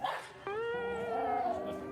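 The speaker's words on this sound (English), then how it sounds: "He's even like curving his back a little bit and growling, kind of like warning the other dog away." A fluffy dog growls and whines at another dog, a strained, tonal vocal sound that rises into a sustained whimpering growl lasting under two seconds, close and fairly clear.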